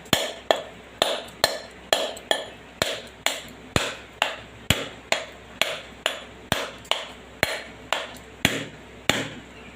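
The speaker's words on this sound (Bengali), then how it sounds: "এই নারকেলটাকে আমি ফাটিয়ে নিচ্ছি" A water-soaked coconut is struck repeatedly to crack its shell, about twenty sharp, evenly spaced whacks in steady rhythm, each loud and close with a short ringing decay, and no voices.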